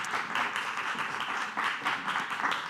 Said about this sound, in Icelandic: þið megið klappa fyrir þeim